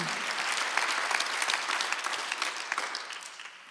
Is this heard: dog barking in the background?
no